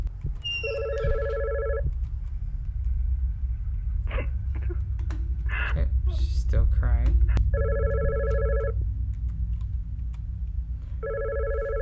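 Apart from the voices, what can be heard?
telephone ringing in the video game God's Basement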